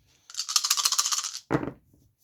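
A handful of dice rolled for a World War II strategy board game, a dense clattering rattle lasting about a second, then a shorter lower tumble as they settle, close and fairly loud with no talk.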